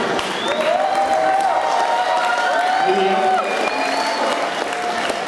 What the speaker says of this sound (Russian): Вы даете ее нам сюда своими аплодисментами